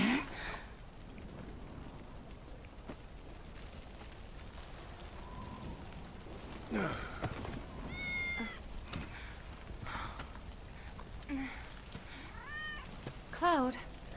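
Cat meowing in Final Fantasy 7 Remake, several short meows scattered over a quiet ambient game background, some close and clear, with brief bursts of other game sound in between.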